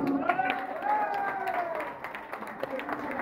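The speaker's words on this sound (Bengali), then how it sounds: "করতালি" An audience at a pigeon fanciers' club tournament applauds its president, moderately distant clapping running under tonal crowd voices and chatter throughout.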